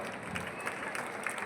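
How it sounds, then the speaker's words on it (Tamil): Dense crowd applause at a ceremony with a tourism minister present, a steady wash of many hands clapping, brief and moderately loud. "ஒரு பெரிய பலத்த கைத்தட்டலுடன்"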